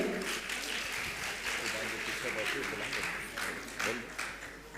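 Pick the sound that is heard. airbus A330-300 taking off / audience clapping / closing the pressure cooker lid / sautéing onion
audience clapping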